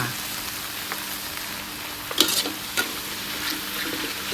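Chili and beans stir-frying in a pan with sugar and fish sauce seasoning, a steady sizzle broken by a few scraping stirs of a spatula, close and moderately loud, no talking.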